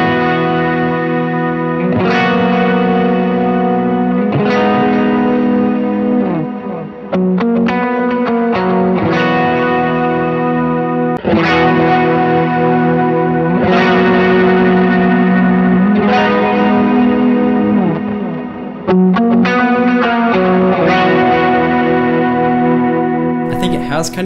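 Shimmering electric guitar chords strummed in a slow progression, thick with chorus and a touch of echo, ringing out loudly with no talking.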